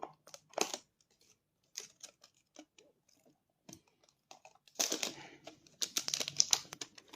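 Scissors snip through the packaging of a Crash Bandicoot collector's box in short, irregular crisp cuts and crinkles. A quiet stretch comes first, then a denser burst of snipping and rustling.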